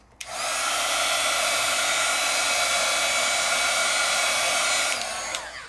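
A heat tool blasts steadily, drying wet ink on black paper during stencil layering, a loud close whirring hiss that starts abruptly and runs for several seconds before cutting off.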